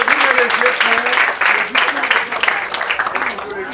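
A French ceremony audience applauds a couple, Peter and Stéphanie, with dense steady clapping throughout and a voice talking over it.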